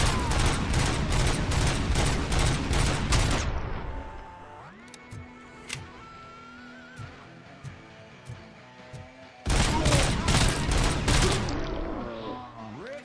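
Loud bursts of rapid gunfire from the Robocop video game hammer away, break for a quieter stretch of scattered clicks and tones, then resume in a second heavy rattling burst.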